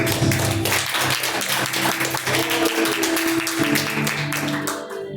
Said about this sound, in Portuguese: Palmas para o nosso Jesus